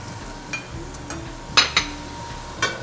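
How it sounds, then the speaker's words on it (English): A tablespoon of butter sizzles in a preheated frying pan, a soft, steady hiss broken by a few sharp metallic clinks and scrapes of utensils against the pan. "I'm just going to add 1 tablespoon of butter directly to the pan"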